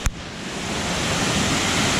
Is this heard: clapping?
no